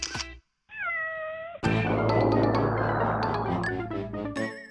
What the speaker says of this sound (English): your cat being stuck under floorboards